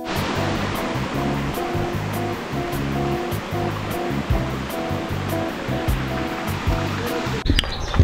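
Thermal spring water welling up from underground and cascading down terraced pools in Tuscany, a dense, steady rushing splash that stays loud and constant, ending with a brief knock.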